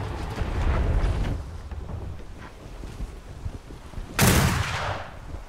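Cannon fire in a naval battle in the video game Atlas, with a schooner fighting armored sloops: one sudden heavy boom late in the clip cuts through a constant rush of wind and sea.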